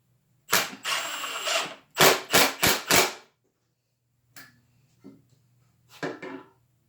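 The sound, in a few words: Milwaukee M18 brushless impact driver driving 4-inch square-drive screws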